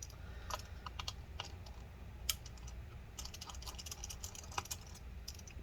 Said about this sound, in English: so let's remove these screws as well